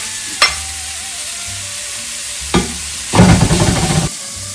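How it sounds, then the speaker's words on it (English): Bacon fries in a pan over medium-high heat with a continuous close sizzle, punctuated by a couple of sharp taps and a brief burst of louder crackling as it is stirred or moved. "first thing, you want to get this bacon all fried up."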